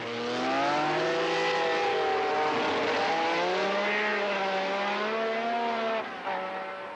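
A BRM Formula 1 race car engine wails past while overtaking, a loud sustained high-revving whine with gliding pitch shifts as it changes gear, dropping slightly near the end.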